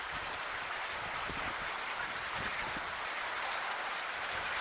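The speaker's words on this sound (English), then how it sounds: "The rain's letting up." Steady rain falls outdoors as an even, continuous hiss with scattered nearby drips and patters, fairly loud and constant throughout with no voices.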